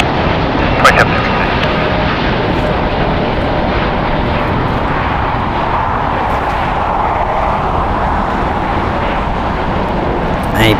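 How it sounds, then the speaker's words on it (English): A Boeing 787 jet taking off at LAX, a loud steady broadband engine roar that holds for the whole stretch, with a brief clank near the start. "A beautiful 787 departure."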